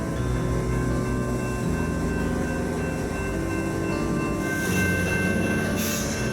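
An eastbound coal freight train rolls through downtown Kamloops, a loud, continuous rumble of heavy wagons with rhythmic wheel clatter and brief high metallic squeals, close by and uninterrupted.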